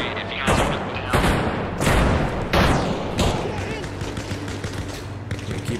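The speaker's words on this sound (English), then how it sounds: "Gunfire." Gunfire in Arma Reforger, a military simulation game, with sharp bursts of rifle and machine-gun fire crackling repeatedly over roughly six seconds, loud and close, with a constant low rumble underneath and voices talking over the shots.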